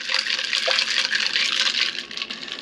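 Iced coffee and ice cubes swished around in a cup, a bright continuous sloshing and swirling liquid rush with faint ice clinks, close and fairly loud.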